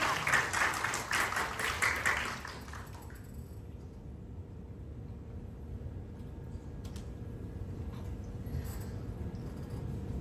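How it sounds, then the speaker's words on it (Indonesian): A church congregation applauds during a sermon. The clapping starts fairly loud and close for about two seconds, then fades into a low, diffuse room murmur. "Beri tepuk tangan yang meriah-riahlah kita."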